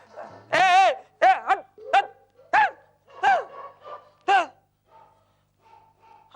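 A dog barks in a run of sharp, loud barks and yips spaced irregularly, some doubled, fading to faint whimpers at the end; no talk.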